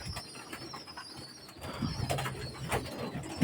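Pigeons, white-beaked pure KTM teddy birds kept for sale, give soft low coos and restless fluttering and shuffling, close by and continuous, growing a little busier partway through.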